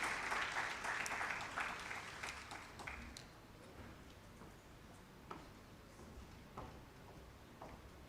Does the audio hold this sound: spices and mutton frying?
no